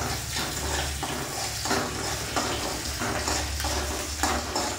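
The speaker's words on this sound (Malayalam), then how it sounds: "ഒന്ന് മൂപ്പിച്ചെടുക്കാം." Onion, ginger and green chilli fry in a pan for a yam and drumstick-leaf stir-fry, giving a steady close sizzle with periodic scraping stir strokes and light clinks of utensil on metal.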